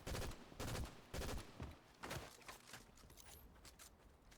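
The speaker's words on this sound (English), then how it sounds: "They're trying to shoot something." Bursts of video game gunfire in a multiplayer shooter, several loud volleys of rapid shots in the first half followed by quieter, scattered distant firing.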